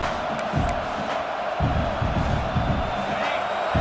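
Stadium crowd in College Football 26 during a Kentucky Wildcats dynasty game, a steady loud roar of cheering and shouting that swells around the middle and stays dense throughout, with no break.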